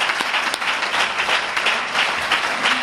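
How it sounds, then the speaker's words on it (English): A seated audience at a Nation of Islam lecture gives a sustained round of applause, dense, even clapping that holds steady at moderate volume for the whole stretch. "Let's give Brother Akbar another well-deserved round of applause for that wonderful lesson today"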